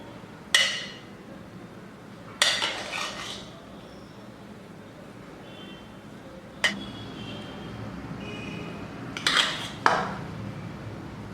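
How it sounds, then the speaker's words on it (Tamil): Metal spoon clinks and scrapes against a pot while mutton kheema biryani rice is gently stirred, a handful of sharp separate knocks spread over quiet kitchen background with no talking. "சாதம் குழஞ்சி போயிடாமல் மெதுவாக கிண்டுங்க"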